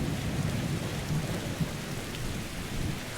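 Steady heavy rain pours down in the Skyrim video game, with low thunder rumbling continuously beneath the hiss, at an even loudness and with no voices.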